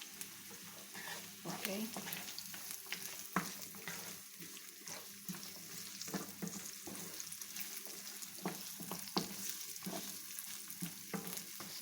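Carrots sauté in a hot pan with a steady, soft sizzle, broken by frequent clicks and scrapes of stirring; a voice briefly speaks over it.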